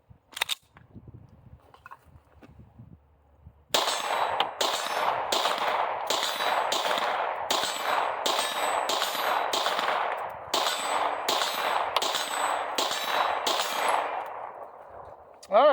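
A Glock 26 pistol fitted with an RMR-cut slide fires a rapid string of about a dozen sharp, loud, close gunshots in quick succession at an outdoor range, after a quieter stretch of faint handling noise.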